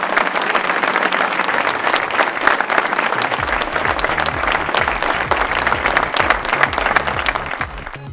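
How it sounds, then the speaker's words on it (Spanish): Crowd applauding at a hill-climb motor race in La Guancha, Tenerife: steady, dense clapping that carries on unbroken, with a low rumble and a faint voice underneath. "Otro fuerte aplauso que se escuche muy grande"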